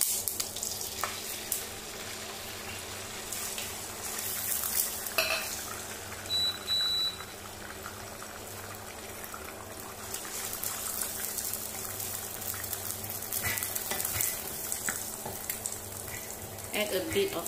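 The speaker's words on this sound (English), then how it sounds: "And we will scramble the egg." Steady sizzle of an egg being scrambled and fried in oil in a pan, a continuous crackling hiss at low level with faint clinks of stirring throughout.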